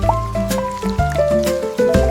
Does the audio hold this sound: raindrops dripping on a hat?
yes